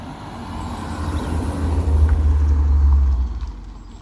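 A BMW car drives onto a car show field, its low engine rumble swelling as it draws closer and then easing off as it moves past, with no talking.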